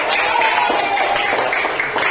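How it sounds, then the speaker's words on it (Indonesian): Classroom students clapping for a classmate after a math problem, a steady busy patter of many hands filling the room, with voices mixed into the clapping. "Ya tepuk tangan dulu untuk Opa"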